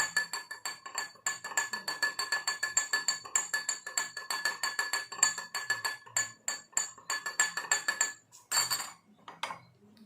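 A spoon stirs a solution in a glass during a classroom experiment on solutions and mixtures. Close, rapid, rhythmic clinks of metal against glass continue steadily for several seconds.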